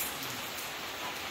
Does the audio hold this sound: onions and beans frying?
no